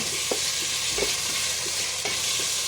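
Chicken feet sizzle and fry in a hot pan, a steady bright crackle with a few soft stirring clunks from a utensil, close and continuous, with no voices.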